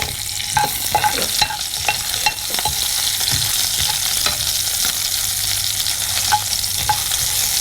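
Steady sizzling of green chilies frying in hot oil, with crackles and pops scattered throughout, close and fairly loud, no talking, while making Chettinad chicken gravy.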